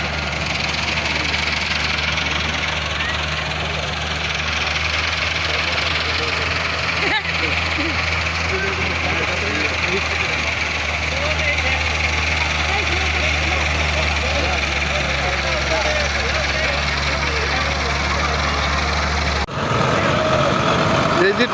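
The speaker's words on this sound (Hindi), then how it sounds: "ये जी ट्रैक्टर काला क्रॉस कर रहा है और आगे फुल चढ़ाई भी है" A tractor engine labours up a steep climb during a tractor pulling competition in Pakistan, producing a loud, continuous low rumble with a knocking throb that carries on without pause, and a brief shift in tone near the end.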